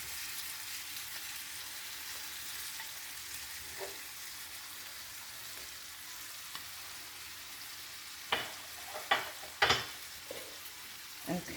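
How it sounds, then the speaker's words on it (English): Spinach and shrimp cooking in butter in a pan, a soft steady sizzle with a few sharp clinks and stirs near the end. "you can see the spinach is cooking. The shrimp is also cooking, and the butter"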